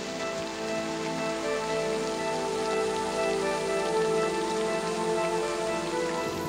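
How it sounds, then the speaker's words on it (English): Steady rain falls and patters on surfaces, an even, continuous hiss that holds without pause for several seconds. "waiting for the rain to pass"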